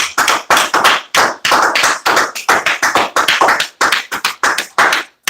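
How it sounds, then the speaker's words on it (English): An audience applauds with loud, continuous clapping close by, swelling in bursts and dropping out once near the end, with no voices over it. "Minister Eric Muhammad, a well-deserved round of applause"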